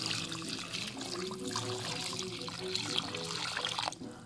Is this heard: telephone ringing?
no